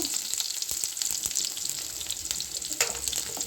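Crushed garlic fries in hot oil, a constant close hiss and crackle with a few quick spatula taps and stirs.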